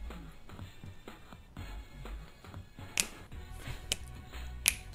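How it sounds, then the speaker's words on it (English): Several crisp, sharp finger snaps spaced irregularly over quiet background music, mostly in the second half, each snap short and bright. "I gotta snap my fingers to this"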